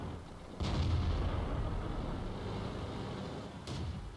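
A tank cannon shot in World of Tanks: a heavy booming blast rising out of a dense rumbling battle bed, followed by sustained low roar and a second faint thud near the end.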